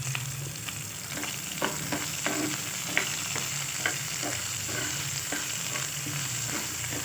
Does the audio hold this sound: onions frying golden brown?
yes